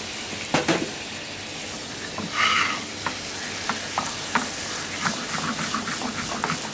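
A splash of water goes into a simmering pan of fruit mixture on a kitchen stove, hissing and sizzling up briefly, then settling into steady bubbling with light stirring scrapes throughout.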